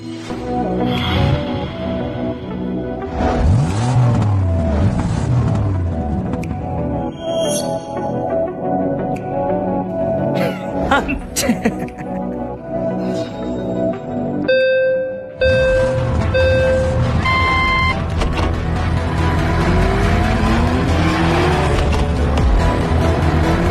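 Racing cars and taxis compete in a race, with revving engines, rising and falling pitch sweeps, tire squeals and passing cars. The sound is loud and close, and musical tones are mixed in.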